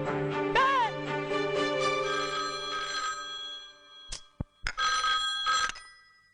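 A telephone bell in a 2002 Hindi film scene rings in a bright, ringing trill that repeats, then cuts off into a few sharp, brief electronic tones.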